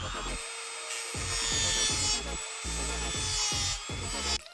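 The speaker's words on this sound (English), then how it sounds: "I'm just gonna take this little stone tool." A small stone grinding tool working a relief notch into a part of a GMC AT4 light bar mount, giving repeated short rasping strokes in an uneven rhythm, close and fairly quiet.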